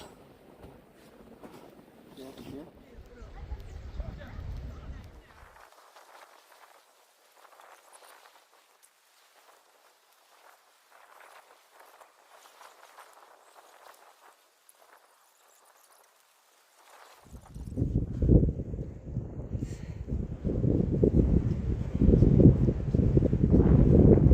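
Strong wind gusts on a snowy mountain trail between Hambaeksan and Taebaeksan during snowfall: a loud buffeting roar at first, a quieter lull, then heavy, sustained low rumbling gusts close to the microphone.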